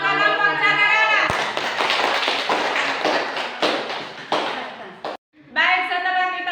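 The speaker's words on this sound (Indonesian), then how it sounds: "beri aplaus untuk kelompok cagar alam" Applause from a classroom group after a student presentation, a dense burst of many hands clapping for about four seconds, fading out, then a voice resumes speaking.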